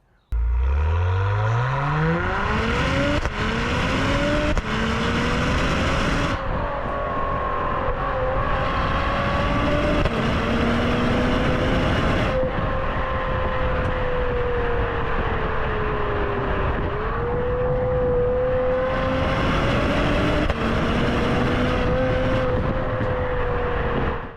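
A 2025 Acura TLX Type S accelerates hard in Sport Plus mode. The engine note climbs steadily through repeated rising sweeps, with a brief dip between gears, and stays loud and close for the whole run with no talking.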